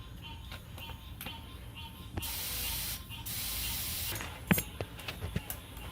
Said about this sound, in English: Fill it with some air to give it some form.